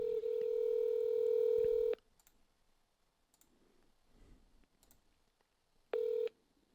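Telephone dialing tones from an AI phone agent call: a long steady dual-tone beep, a quiet stretch of faint clicks and hiss, then a second short tone burst near the end, clear and close.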